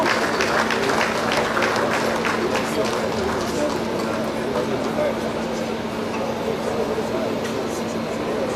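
Audience clapping for a leader at a grand reception where the Lagos governor hosts the president, dense sustained applause throughout with a crowd murmur and a steady hum, an announcer's voice speaking over it.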